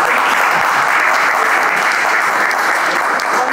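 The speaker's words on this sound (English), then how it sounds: "a special round of applause for his brother" An audience claps continuously and evenly throughout, a close, dense burst of applause at an art camp event.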